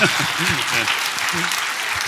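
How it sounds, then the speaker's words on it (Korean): Audience applause at a talk, a brief steady wash of clapping lasting about two seconds, with a voice speaking over it. "박수하겠습니다."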